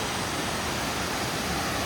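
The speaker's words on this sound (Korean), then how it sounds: "와, 계단식 폭포가 있어." Tiered, cascading forest waterfall in a mountain park gives a loud, constant broadband rush of falling water, close by and unbroken for the whole moment.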